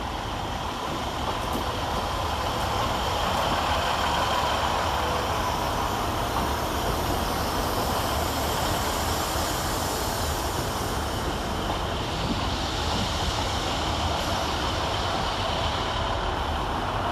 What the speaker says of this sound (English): Next train out of the tunnel, terminating with an East Midlands Railway service